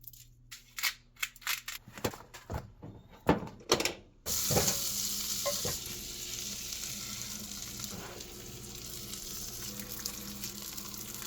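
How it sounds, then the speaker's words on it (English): Sharp cutting clicks and snips come through as a trout's spine is cut out, about a dozen crisp strokes over four seconds, then a steady sizzling hiss takes over for the rest. "First thing I'm gonna do here with this trout is go ahead and cut the spine out."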